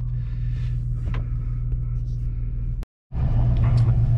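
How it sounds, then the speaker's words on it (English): Air conditioning running in a Chevy Colorado ZR2 gives a steady low hum and rumble with a short gap partway through, and someone talks over it. "I got the AC on, so sorry about the noise"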